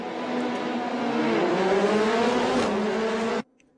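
Formula Renault Eurocup race cars at Spa-Francorchamps give off a loud, steady engine roar, with pitch rising as the cars accelerate through the start, before the sound cuts off abruptly.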